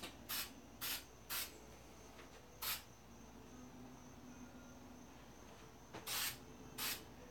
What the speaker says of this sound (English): It's spray gesso, which means it's water-based.